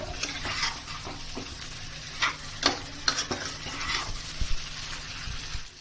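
Chicken pieces coated in masala fry with added tomato in a pan over a raised gas flame, stirred briskly: a steady sizzle broken by sharp spoon scrapes and knocks, no voices.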